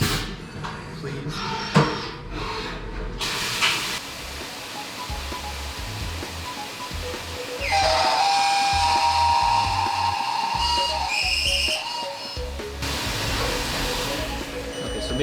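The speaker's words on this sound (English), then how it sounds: "maybe we can go a little bit slower next time on the reamer. The chatter is coming from up there." A reamer cutting into a rotary engine housing chatters, with a raised metallic screech and rattle that comes in bursts over machine hum and clunks, and people speak in the background.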